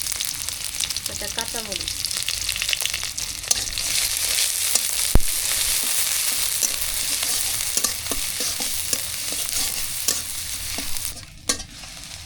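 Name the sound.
whole fish frying with chopped onion in a pan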